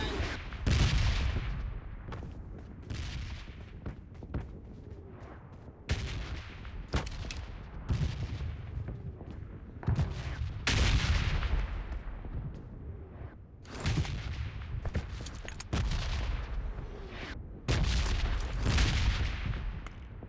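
Gunfire in the mobile battle royale game PUBG Mobile 2.0: repeated loud bursts and single booming shots throughout, clustered in bursts with short pauses, some sounding distant and rumbling.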